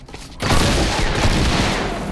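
Weapon gunfire in Fortnite: after a brief quiet start, a dense, loud sustained burst of rapid shots fills the rest of the moment, with no talking.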